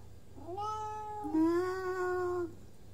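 Timmy the cat gives a drawn-out two-part meow lasting about two seconds. It is close and clear over a low background hum.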